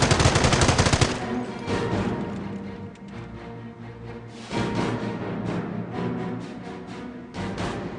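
Rifles and machine guns rattle in a Company of Heroes battle during the Carentan invasion, opening with rapid automatic bursts, then scattered shots and renewed volleys over a continuous combat din.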